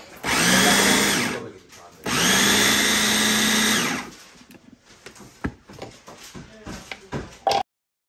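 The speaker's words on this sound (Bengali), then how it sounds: "এই মুগ ডালটা সিদ্ধ করে আমি এটারে এখন এটার সাথে একটু ব্লেন্ড করে নিব, এটা চপারের মেশিনটা দিয়া" An electric chopper whirs loudly in two steady bursts of about two seconds each as it blends boiled mung dal, followed by clattering and handling knocks.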